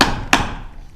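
Two sharp mallet whacks drive a chisel into wood while cutting a half dovetail mortise, a strong strike at the start and a second about a third of a second later, close and loud with no talk.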